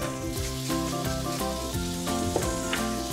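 Pieces of lamb fry in a hot pan with cardamom pods, giving a steady close, crackling sizzle over a few seconds, with faint music underneath.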